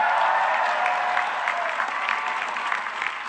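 At the U.S. Merchant Marine Academy's 2022 commencement, a crowd applauds a graduating international student with steady, even clapping that holds for the whole stretch and sounds slightly muffled.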